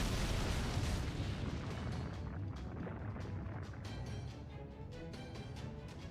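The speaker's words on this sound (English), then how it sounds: "somebody's firing magical energy blasts at us from 6 o'clock" Magical energy blasts in the Fate/Grand Order game: a dense, sustained roar of explosive rumbling from start to finish, loud and heavy in the low end, with crackling bursts layered over it.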